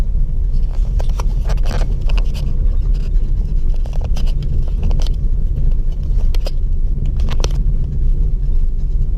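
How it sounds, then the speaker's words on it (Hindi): A manual car in second gear drives along a road with a steady, loud low engine and road rumble, punctuated by occasional scrapes and clicks from inside the cabin. "मैं डालूंगा सेकंड गियर और फिर से धीरे धीरे से क्लच छोड़ूंगा"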